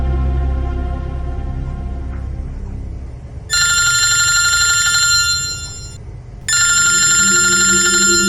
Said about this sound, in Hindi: जतिन को फोन लगाता हूं।